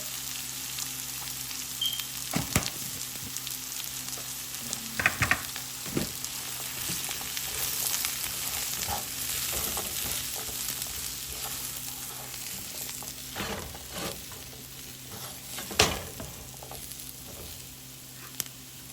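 Brinjal frying in a hot pan with oil, a steady sizzle broken by scraping stir strokes and occasional clatters as a home cook prepares a Jaffna-style dish; no voices.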